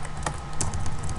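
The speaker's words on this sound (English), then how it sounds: "now you go up and type in" Quick keystrokes on a computer keyboard, a few close, distinct clicks and taps in an uneven burst, heard alone without speech.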